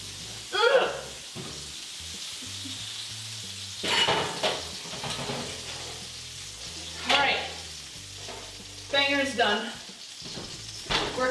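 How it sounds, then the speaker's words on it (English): British sausages sizzle and pop loudly in a hot frying pan, a steady crackle broken by sharp spitting bursts, with excited voices talking over the cooking. "We've got exploding bangers."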